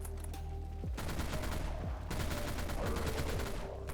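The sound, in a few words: Kraken minigun firing in video game Dead Frontier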